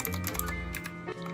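Rapid clicky keystrokes on an RK Royal Kludge RK61 60% mechanical keyboard, a close, dense run of sharp taps with no talking.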